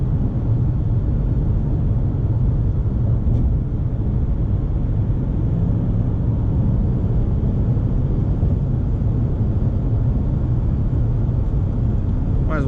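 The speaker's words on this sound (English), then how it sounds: "I'm not sure what all that excessive wind noise is coming from" A steady, loud broadband rush of wind noise fills the cabin of a Subaru Outback 3.6R with its windows closed, cruising on a windy night in Montreal, constant and unbroken throughout with no talking.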